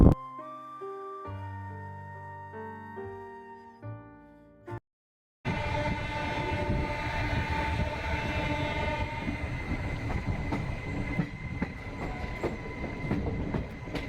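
A train running from Kalka to Delhi rumbles loudly and continuously with steady rail noise, after a few seconds of soft melodic music at the start.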